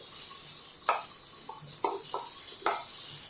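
Boiled moong dal mangodi is stirred and fried in masala in a pan, giving a soft steady sizzle broken by a few sharp scrapes and clinks of a spoon against the pan, with no talking.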